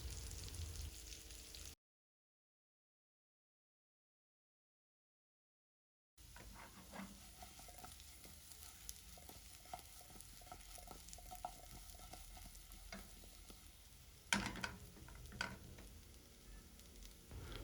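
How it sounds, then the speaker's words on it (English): Potato pieces pan-frying in melted margarine give a quiet, steady crackling sizzle with scattered pops and stirring scrapes. A brief stretch of silence breaks it early on, followed by a louder clatter near the end. "Then you're going to pan fry them until they are crispy on outside."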